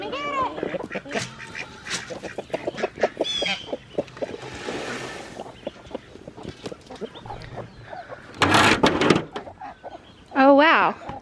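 Ducks and ducklings being fed on a homestead, with scattered quacks and peeping calls between bursts of a voice coaxing them, plus louder flapping or clattering near the end.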